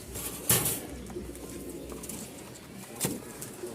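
A male Giribaz pigeon coos in short, soft bursts, two brief calls standing out over a quiet background of faint room noise.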